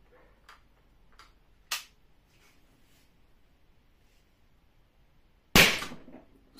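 Shots from an LTL Alpha 1.50 .50 caliber less-lethal gun, with a sharp pop near two seconds and a louder, ringing shot near five and a half seconds, plus faint ticks between them in a quiet setting.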